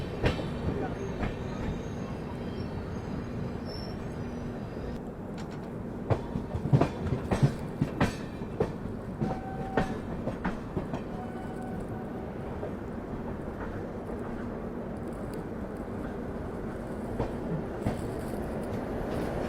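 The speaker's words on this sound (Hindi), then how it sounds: "Varanasi Mysore superfast express main line join कर रही है। पुष्पक एक्सप्रेस के पीछे पीछे डिपार्चर ले रही है।" Varanasi Mysore Superfast Express running on rails while joining the main line: a steady moderate rumble with irregular wheel clacks over joints, busier in the middle, plus a faint tonal hum.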